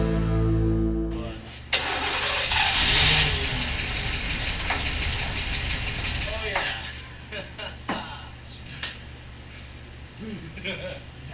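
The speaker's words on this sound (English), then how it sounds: "it pretty much started up and fired up and on its own, running on the starter fluid" A 1969 Lincoln Continental engine fires up on starter fluid and settles into a rough, loud idle, with a voice talking over the running engine and irregular clanks and knocks toward the end.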